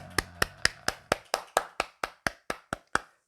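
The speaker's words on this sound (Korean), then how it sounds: "우리 하나님께 감사의 박수 드리겠습니다" Thirteen slow, evenly spaced hand claps ring out loud and close, a steady rhythmic clap of thanks from a congregation at a Korean Wednesday church service.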